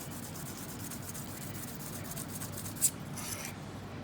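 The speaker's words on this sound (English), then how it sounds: "I would sand the top of it" Hand sanding with 400 grit sandpaper on the top of a wooden piece, a steady soft rasping rub that continues throughout at close range, with one brief sharp tick near the end.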